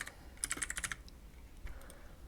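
Quick run of keystrokes on a computer keyboard in a Windows 10 PC setting, about a dozen crisp clicks in a fast burst followed by a few scattered taps, close and alone over faint room noise.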